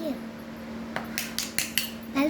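A frying pan being handled before frying eggs: a few quick metallic clinks and scrapes in an irregular cluster, close by over a low steady hum.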